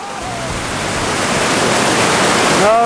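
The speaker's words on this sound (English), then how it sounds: "The last 5 whitewater actions, mainly because rock construction in the middle," Whitewater rapids on the Upper Gauley River roar as a steady, loud rushing wash that builds slightly, with a brief voice breaking through near the end.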